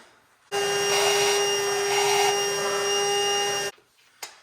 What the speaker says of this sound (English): Now we're going to grab our vacuum again and vacuum out these holes a little bit